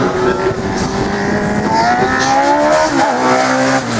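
A race car with a Suzuki motorcycle engine screams at high revs during a slalom event, pitch climbing and then dropping as it shifts, loud and continuous with a harsh, buzzing edge.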